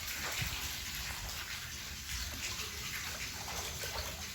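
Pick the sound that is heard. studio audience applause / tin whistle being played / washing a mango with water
washing a mango with water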